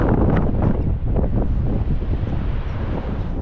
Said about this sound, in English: Hopefully you'll hear me above the wind.